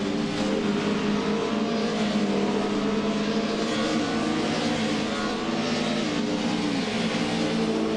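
Race cars in a video game, Ford Legends machines on the Feldbergring circuit, engines droning and revving steadily together in a dense, continuous roar with no pauses.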